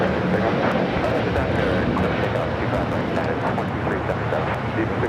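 A large airliner on the south side of LAX airport gives a continuous loud, broad jet roar that holds steady throughout, with people talking faintly under it.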